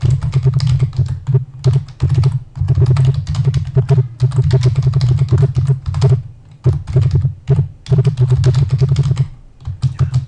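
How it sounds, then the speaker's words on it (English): Rapid clacking of keys on a computer keyboard, loud and close, in bursts separated by short pauses over about ten seconds. "I apologize if you hear all the typing of my keyboard"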